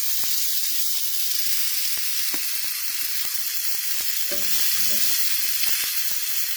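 Food sears in a hot pan with a loud, continuous sizzle and frying hiss, broken by sharp crackles and pops and a few scraping stir sounds.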